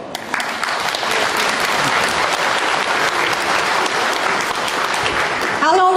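Dense, steady applause from an audience at the 2001 Gardenton Ukrainian Festival fills the space from start to finish, with a voice starting up near the end.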